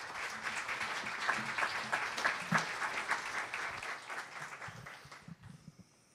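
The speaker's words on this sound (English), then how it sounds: "So would you please give him a round of applause and welcome him." A conference audience applauds to welcome a Metro Government official from Oregon at a green urban innovation event: dense, steady clapping for about five seconds that thins out and fades, with a few scattered voices at the end.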